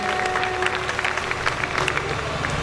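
An audience claps to welcome a singer onto the stage at a Bhojpuri folk music event, dense sustained applause from a crowd with faint talk in the background.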